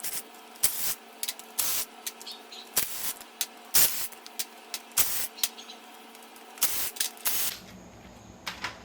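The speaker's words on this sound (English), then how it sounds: "we got our trusty little 3/8 impact drive here, so let's go ahead and get these bolts out" A 3/8-inch impact driver backs half-inch bolts out of a Turbo 350 transmission front pump, firing in a string of short, loud, close hammering bursts separated by brief pauses.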